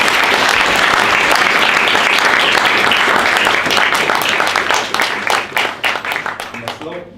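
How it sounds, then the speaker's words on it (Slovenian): An audience at an award ceremony for diploma, master's and doctoral theses applauds a recipient with loud, dense clapping that thins into scattered, fading claps before stopping. "Pa seveda prosim, če en aplavz za spodbudo."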